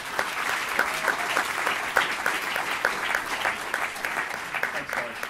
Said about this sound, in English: So I think a round of applause for Ian and Peter.